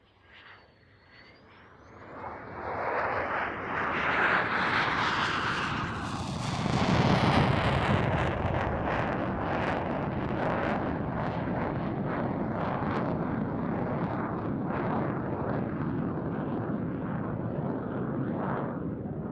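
A Danish F-16AM fighter jet makes a display pass at an airshow, its engine roar swelling quickly from a distant whine into a loud, sustained rumbling blast that lingers as it passes.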